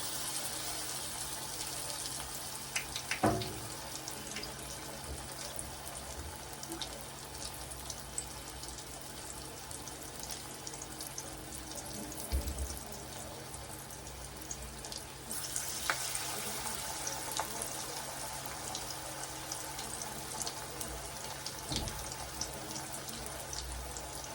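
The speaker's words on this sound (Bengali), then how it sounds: "পকোড়াটা ভেজে নিই" Curry leaf pakoras fry in hot oil with a faint, steady sizzle that runs throughout, broken by a few soft clicks and bubbling spurts.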